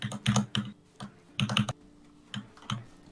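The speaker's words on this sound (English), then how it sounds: "You have a very loud keyboard." Loud clacky keystrokes on a computer keyboard come in quick bursts with short pauses, close and crisp, no voices.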